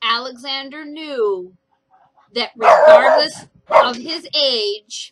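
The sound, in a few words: dog barking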